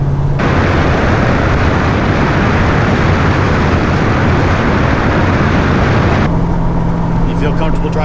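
Inside a moving car with a manual transmission, a loud, dense roar of engine and road noise runs steadily, then cuts off abruptly near the end to a quieter cabin.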